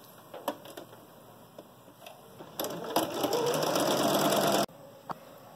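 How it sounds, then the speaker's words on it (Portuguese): A sewing machine runs in short bursts and then a longer steady stretch, stitching along the edge of a 3D fabric face mask, close and fairly quiet with no voices. "E vamos passar uma costura aqui nessa bordinha."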